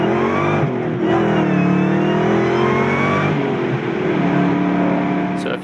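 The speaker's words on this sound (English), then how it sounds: "The sound of the V8, the sound of the blower" A 2004 SVT Mustang Cobra Terminator with a supercharged V8 and Whipple blower revs loudly and continuously, its engine rising and falling in pitch with the supercharger whine above it, close and alone.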